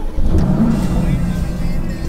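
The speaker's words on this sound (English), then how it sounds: "Key in my pocket, engine start." A 2016 Mercedes-AMG GT S engine catches and settles into a deep, steady idle rumble, fairly close and continuous.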